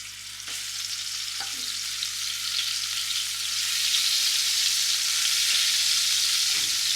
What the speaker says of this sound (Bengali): আমি পটল ভাজার তেলটার মধ্যে চিংড়ি মাছটা ভেজে নেব